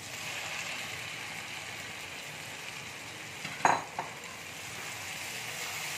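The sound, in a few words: potatoes added to fried spice paste in a pan, sizzling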